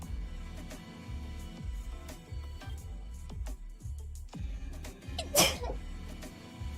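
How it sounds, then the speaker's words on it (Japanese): A single sharp sneeze bursts out near the end over a low, steady background hum and faint knocking, loud and close, with no talking around it. "くしゃみ出そう。"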